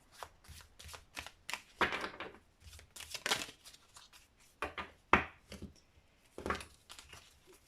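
A deck of small Lenormand oracle cards is shuffled close up in repeated quick riffling bursts with short pauses between them, no voices.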